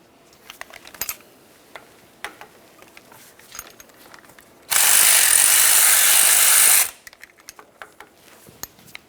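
A ratchet backs a 12mm bolt out of a bracket on a 2012-2015 Honda Civic 1.8L during starter replacement: quiet scattered clicks and taps, then a loud, continuous two-second burst of rapid ratcheting before fading back to light clicks.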